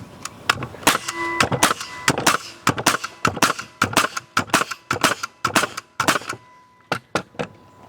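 A Porter Cable FR350A pneumatic framing nailer drives nails into a board in a rapid, steady run of loud, sharp cracking shots, each with a brief metallic ring, close by with no talk.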